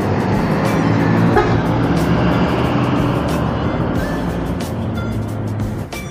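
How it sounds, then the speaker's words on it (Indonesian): A Harapan Jaya intercity bus pulls out of a terminal in Kediri. Its engine gives a loud, continuous, close rumble, with faint horn toots and the noise of other traffic around it. "Dan langsung berangkat menuju ke arah Surabaya."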